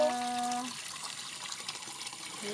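Spring water flows from a bamboo pipe on a mountainside, a steady splashing wash that swells after a brief voice-like tone at the start and stays close and even.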